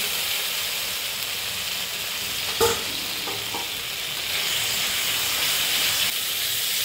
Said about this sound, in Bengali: এবারে আমি এর মধ্যে দিয়ে দেবো সেদ্ধ করে রাখা আলু